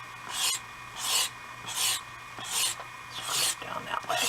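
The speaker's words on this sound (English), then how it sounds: "Scrape down that way." Repeated scraping strokes across a craft bag surface to build texture, six evenly spaced rasping passes, close and fairly loud.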